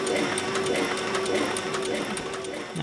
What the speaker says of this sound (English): I do just use a cheap 1x30 sander